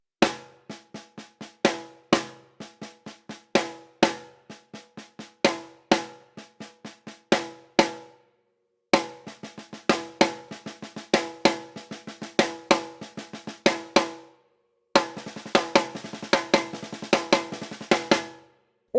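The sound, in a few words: drum six-stroke roll rudiment played straight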